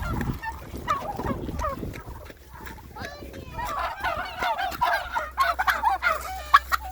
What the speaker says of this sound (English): Oh, these enormous turkeys.